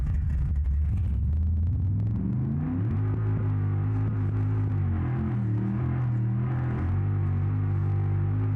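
Ford D-Series truck engine in BeamNG revving hard on a mud drag run with no trans brake, a loud sustained drone that climbs in pitch through shifts over about eight seconds, close and continuous.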